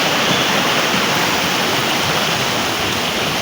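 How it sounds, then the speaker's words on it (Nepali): Floodwater pours like a waterfall through the town of Melli bazar during a landslide, a loud, continuous roar of cascading water heard up close, steady and unbroken, with no one speaking. "मल्लीमा वाटरफल गाइस"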